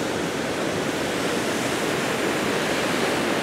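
Milky glacial meltwater rushes swiftly down the Hooker Valley near Mt Cook, New Zealand, flowing from Hooker Lake toward Mueller Lake, a loud, dense, unbroken roar that fills the whole stretch with no voices.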